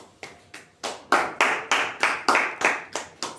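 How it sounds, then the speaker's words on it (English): A group of children claps in a steady, even rhythm, about a dozen synchronized claps that grow louder then hold, with no talking. "Clap for yourselves."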